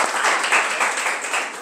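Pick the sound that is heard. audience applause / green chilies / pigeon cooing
audience applause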